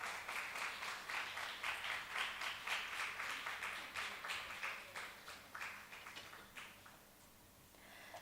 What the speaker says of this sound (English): Please join me in welcoming her to the dais with a warm round of applause.